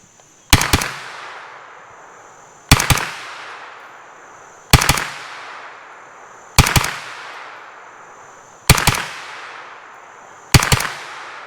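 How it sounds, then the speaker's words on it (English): A Steyr AUG 9mm bullpup firing Phoenix 115 ammunition: six loud single shots at an even, unhurried pace, each sharp crack followed by a long fading echo. "let's try some Phoenix 115 in this, just see what it does."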